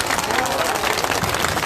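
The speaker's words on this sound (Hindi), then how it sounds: "ताली बजाओ जोर से" A crowd at a political party's foundation-day rally in Udhampur claps loudly and continuously, a thick, busy roar of applause with some crowd noise mixed in.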